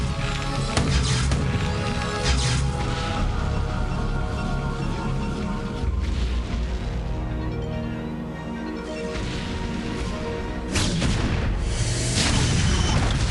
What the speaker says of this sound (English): Missile turret coming down now.